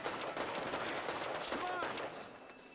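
Rapid gunfire from the mobile shooter Brothers In Arms 3: Sons of War, sustained bursts and cracks running dense through the whole stretch with a voice faintly in the mix, easing slightly near the end.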